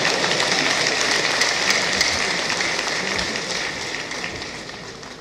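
Sustained, dense applause from a large audience at an accountants' conference plenary session, loud and steady throughout before slowly easing off toward the end.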